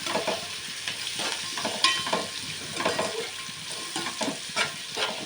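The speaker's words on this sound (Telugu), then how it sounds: "అందులో కొంచెం చింతపండు నాలుగైదు వెల్లుల్లి ఇలా వేసుకొని మంచిగా ఫ్రై చేసుకోవాలి" Close, crackling sizzle of tamarind and garlic frying in a pan with intermittent stirring scrapes and clinks, no talking.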